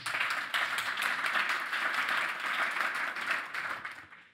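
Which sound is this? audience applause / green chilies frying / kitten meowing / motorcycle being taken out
audience applause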